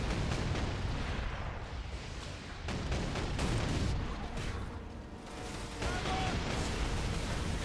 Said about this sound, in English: Let's just detonate that.